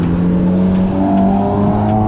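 Loud car revving hard and roaring past during car spotting on a city street, a steady, dense engine drone with rising harmonics, close and continuous with no talk.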